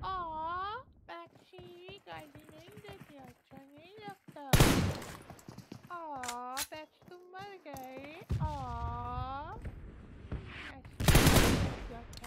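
Rapid bursts of video game gunfire crackle in short volleys while someone talks excitedly over them, the shots loud and close.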